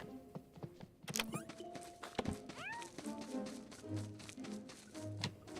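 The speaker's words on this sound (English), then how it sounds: "Where's Base Cat? I hear Base Cat." A cat meows a few times, faint and somewhat distant, among scattered thumps and clicks in a quiet room.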